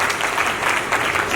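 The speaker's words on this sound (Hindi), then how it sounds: "एक बार जबरदस्त तालियां उनके लिए भी" A seminar audience at a network marketing (DTM company) event bursts into loud, sustained applause, a dense steady wash of many hands clapping without pause.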